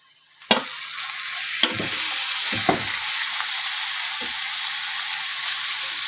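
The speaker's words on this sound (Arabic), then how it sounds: "ننزل اللحمه بتاعتنا. انا معايا نص كيلو لحمه مفرومه." Half a kilo of minced meat hits a hot pan with a sharp sizzle, followed by a few spoon clanks and a steady, loud frying hiss that carries on to the end.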